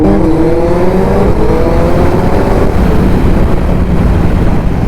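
Suzuki Hayabusa motorcycle engine roaring loudly and steadily at close range with rising pitch as it revs, heavy wind buffeting over it throughout.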